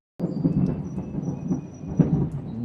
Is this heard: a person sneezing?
no